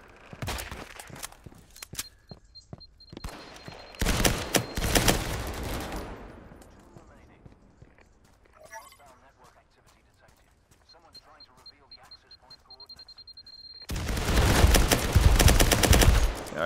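Bursts of loud gunfire in the video game Firewall Zero Hour, heavy volleys at the start, around the four-second mark and again at the end, with quieter gaps between them, and voices talking over the fighting.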